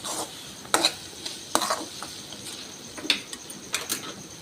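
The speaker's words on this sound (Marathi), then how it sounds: "आता हा गूळ विरगळेपर्यंत आपण हे सारण शिजवून घेऊया" A spoon stirring a jaggery and coconut modak filling in a pan on the stove, with soft scraping strokes and faint sizzling in irregular bursts, close and fairly quiet, with no talking.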